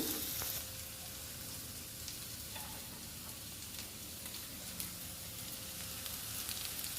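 Cooked rice sizzles steadily as it fries in an oily pan for egg rice, a continuous close, even crackle with no voices over it.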